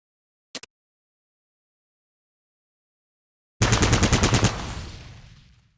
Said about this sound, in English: Target the dummy, and left-click to fire at it.